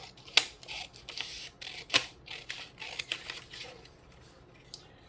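Scissors cut out a paper picture of a girl for an art journal page, with sharp close snips and soft crunching paper sounds in an irregular rhythm.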